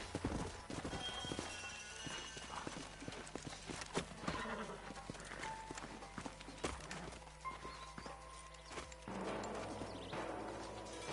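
Horse hooves clip-clop steadily at close range in a video game, Red Dead Redemption, with a neigh and faint background ambience, no talk.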